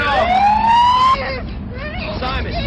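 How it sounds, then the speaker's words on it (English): An emergency siren wails loud and close, its tone sweeping upward for about a second before cutting off abruptly. Voices and commotion follow after it stops. "Turn the siren off!"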